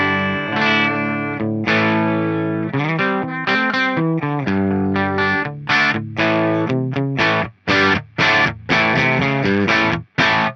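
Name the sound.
electric guitar played through a pedalboard with distortion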